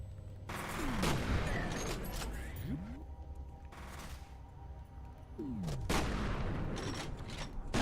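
Shotgun blasts in the Xbox video game F.E.A.R., several loud booming shots with a mechanical pump-action clatter between them, spaced a couple of seconds apart.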